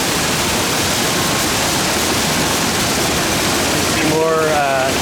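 Water rushing steadily through a filtering system at a cherry processing plant, a dense continuous roar that stays loud throughout, with a faint voice briefly audible near the end.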